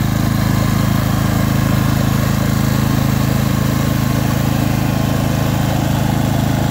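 A Honda EG2800i inverter generator runs loudly and steadily nearby at full throttle, not in eco mode, a constant droning hum with no change in pitch.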